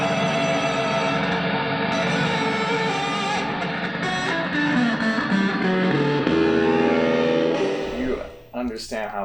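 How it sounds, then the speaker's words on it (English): Electric guitar played through an Earthquaker Devices Afterneath reverb pedal, with dense, distorted chords swelling into washy, echoing reverb tails that fade out at the end. "This pedal produces a reverb sound like no other."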